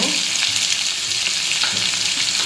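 Sliced onions with a pinch of salt sizzle hard in a hot pan for coriander rice, a dense, continuous close-up frying hiss with faint stirring scrapes, loud and alone without speech.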